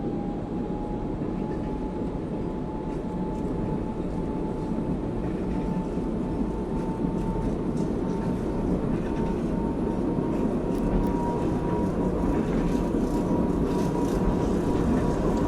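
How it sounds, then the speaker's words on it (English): Airbus A220 jet engines in a flight simulator spool up to takeoff thrust, a steady loud roar with a faint rising whine running continuously throughout. "Okay, set takeoff thrust."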